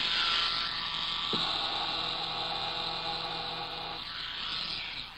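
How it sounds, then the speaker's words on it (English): An old-fashioned electric shaver held against velvet buzzes steadily at close range with a bright, whining motor hum, holding constant for several seconds before tapering slightly at the end. "take this old-fashioned type of electric shaver and hold it against that velvet"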